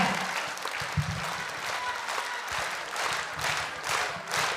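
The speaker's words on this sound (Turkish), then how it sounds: "Gürdeli alkışlar." A concert audience applauds a Crimean Tatar folklore ensemble at a Hıdırlez festival performance, with dense, steady clapping filling the hall and swelling in a few louder waves.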